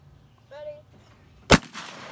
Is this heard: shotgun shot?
yes